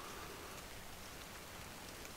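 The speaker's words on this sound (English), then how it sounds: "The rain started." Light drizzle falls steadily in a tall timber forest, a soft continuous patter of fine raindrops on leaves and ground, even and unbroken throughout.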